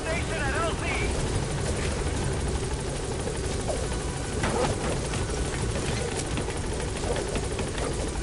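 Pequod helicopter arriving at a landing zone in Metal Gear Solid V, a dense, continuous rotor and engine roar, loud and close, with a voice speaking over it.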